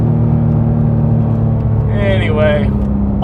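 A Porsche GT3 Touring cruises on a country road with a strong steady engine rumble, close and loud, while a voice speaks briefly over it.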